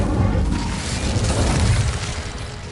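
A fiery Incendio spell blast in Hogwarts Legacy, heard as a loud, dense, roaring burst that holds steady for nearly three seconds with a deep rumbling low end.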